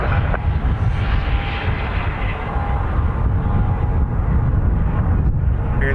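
An Aer Lingus airliner roars on takeoff from Dublin Airport, a loud, steady, broadband jet rumble with some wind buffeting.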